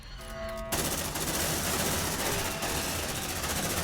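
Constant rapid gunfire rattles in Aliens: Dark Descent, starting abruptly after a brief quiet electronic hum and continuing as a dense, steady machine-gun stream, loud and close.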